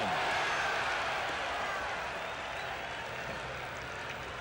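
A baseball crowd at Fenway Park in 1986 cheers as a faint, sustained murmur of many voices that swells slightly at the start, then settles into a steady distant hum.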